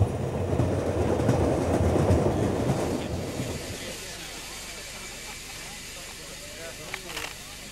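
A steam locomotive hauls a passenger train along the Settle–Carlisle line, a loud rumbling clatter of wheels at first that fades to a quieter steady roll with light clicks, with someone talking over it.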